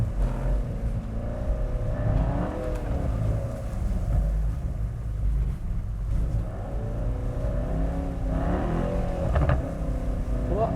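Mercedes-AMG E63S drifting in drift mode, engine roaring steadily with rising and falling revs and tire noise, loud and close throughout, occasional throttle swells.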